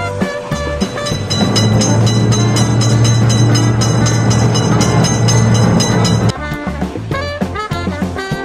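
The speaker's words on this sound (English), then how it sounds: "Train is in sight." Cartoon train in a kids' railroad crossing game rumbles past loudly with steady rhythmic clatter over a music-like backdrop, then thins out near the end as the passing ends.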